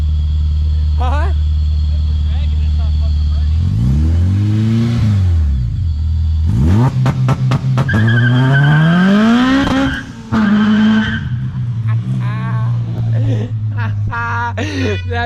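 A supercharged 1950s Chevy with a Vortech supercharger revs hard again and again and spins its tires in loud burnouts. Engine roars rise and fall, and the tires squeal, with people shouting close by.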